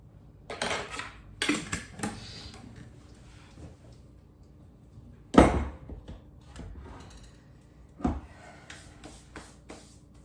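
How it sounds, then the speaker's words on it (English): Whisk clinking against a large mixing bowl while combining dry ingredients such as plain white sugar, heard as a few scattered bursts of metallic scraping and tapping with quiet gaps between them. "I'm gonna go ahead and just whisk these together"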